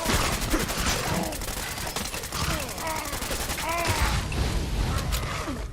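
Rapid gunfire in Fallout 4, bursts of shots rattling continuously over game ambience with faint voices and creaking mechanisms throughout.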